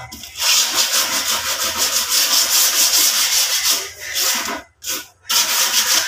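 Close, rhythmic scraping of sandpaper rubbed back and forth over a wooden cabinet door, steady strokes with a couple of brief pauses near the end.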